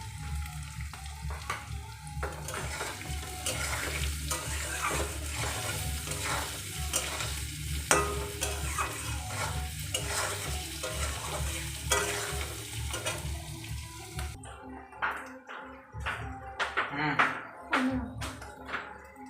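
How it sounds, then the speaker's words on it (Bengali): Potatoes with turmeric and salt sizzle in a hot pan while a spatula scrapes and taps against it in a steady rhythm, the frying hiss dropping away near the end. "আলুর মধ্যে কিন্তু একটু হলুদ দিয়ে দিই, তাহলে আলুটা ভালো ভাজা হবে।"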